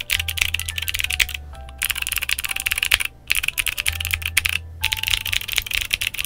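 Glorious Raptor clicky keyboard switches clatter under fast typing, bright crisp clicks in dense bursts with a few brief pauses, close and alone over a faint low hum.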